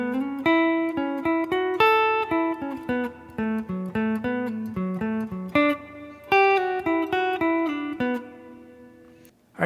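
Two measures of a guitar solo from the 7/30/77 show, played on a single clean electric guitar as quick picked and pulled-off notes, moderately quiet and alone.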